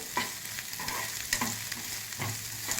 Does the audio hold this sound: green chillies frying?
yes